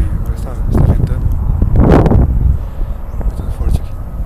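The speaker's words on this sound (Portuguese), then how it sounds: "Não sei se está pegando bem, agora está ventando." Gusts of wind outdoors in Japan buffet the microphone in low rumbling bursts, one especially strong, with no clear speech.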